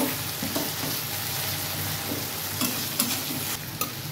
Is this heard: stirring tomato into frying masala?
yes